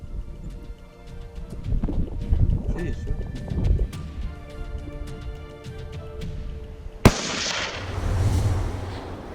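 A single sharp rifle shot cracks out during a mule deer hunt in Sonora, loud and close, following hushed talking and faint rustling, with voices continuing afterward.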